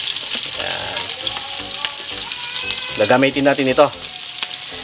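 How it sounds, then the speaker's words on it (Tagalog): Dried fish (tuyo) frying in hot oil in a pan over low to medium heat, with a steady sizzle throughout and louder crackling bursts near the end, while a person talks over it. "ituturo ko kung paano magprito ng tuyo"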